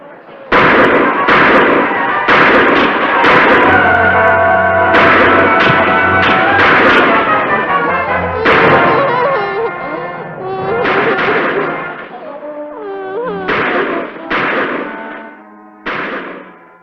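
Gunshots ring out on the main street of an 1860s Nevada mining town in a Western drama, as a run of loud, sharp bangs over tonal music and voices.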